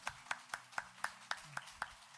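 Slow, evenly spaced hand claps, about nine over two seconds, sharp and fairly close, in a Sunday morning church service as a congregation welcomes a guest.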